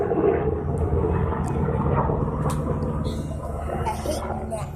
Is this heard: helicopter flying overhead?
yes